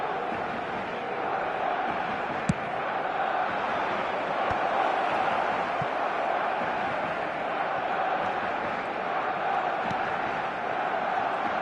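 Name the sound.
crowd cheering in eFootball video game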